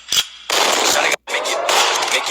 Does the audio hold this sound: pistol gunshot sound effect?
yes